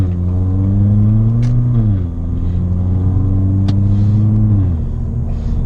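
A Ford Fiesta Titanium engine hums while driving, a loud close droning tone that rises steadily, drops at a gear change, then climbs again before easing off.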